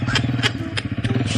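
A stolen motorcycle's engine runs with a steady, pulsing mid-pitched rumble, fairly close, punctuated by short clattery bursts as it rides off.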